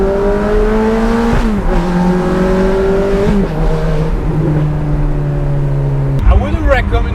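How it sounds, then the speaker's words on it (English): A Ferrari F430 Spider roars loudly while driving, its engine and exhaust made extra loud by exhaust valves with disconnected vacuum lines, with steady harmonic drones that shift pitch as the revs change and a brief gear change near the end. "Very loud, particularly with the vacuum lines disconnected from the exhaust valves."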